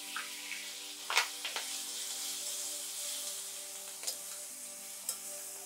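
Green chillies frying in oil give a faint, steady sizzle with a few sharp pops and clicks from the pan, beneath a soft steady musical tone.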